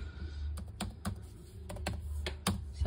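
Keys clatter on a laptop keyboard in a quiet room, a string of close, crisp clicks in irregular bursts with a low background hum beneath.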